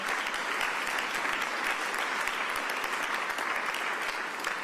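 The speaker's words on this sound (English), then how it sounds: "Please give my members a real big round of applause" Loud, continuous applause from a crowd at a press conference on a new 76ers arena in South Philadelphia, dense and even from start to finish.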